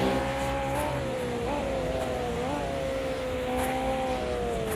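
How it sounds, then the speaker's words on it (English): Mercedes racing car engines in a sim racing game, heard from outside, with revs blipping up and down as gears drop, a steady roar of several cars, no voices. "I think them are the Mercs you can hear blipping down the gears."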